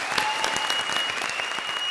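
Studio audience applause on a comedy television show, a short even wash of clapping from many people, moderately loud with no break.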